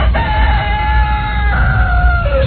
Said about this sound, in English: There's rooster crowing.